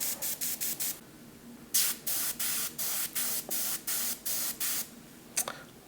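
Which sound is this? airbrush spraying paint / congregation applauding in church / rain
airbrush spraying paint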